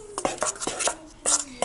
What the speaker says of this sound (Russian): Сейчас его хорошо вымешаем.